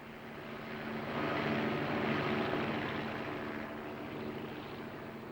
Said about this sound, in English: a traveler's arrival by helicopter is an event